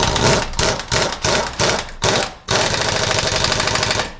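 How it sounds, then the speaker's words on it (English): Pneumatic impact gun driving down the rear axle nut on a 2005 Infiniti FX35 during a wheel bearing job: a series of loud, close rattling hammering bursts separated by short pauses, ending in one long sustained burst. "I'm going to take and run it down with my impact gun"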